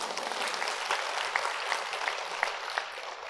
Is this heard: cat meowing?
no